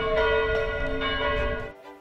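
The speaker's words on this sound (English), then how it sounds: "And of course, ringing bells." Church bells ring in Poland, with several strong sustained tones overlapping in a rich, resonant peal that stays loud and close before cutting off near the end.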